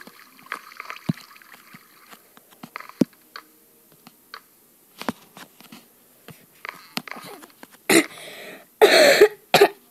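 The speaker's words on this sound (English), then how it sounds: "I've got a really big cough" Several harsh coughs burst out near the end, after a stretch of scattered small clicks and taps nearby.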